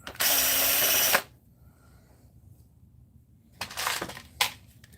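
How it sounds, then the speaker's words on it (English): A power driver whirs for about a second as it backs out the screws of a projector optic assembly, followed by a quiet pause, then shorter bursts of driving and light clicks. "Let's pop the Optic Assembly screws out."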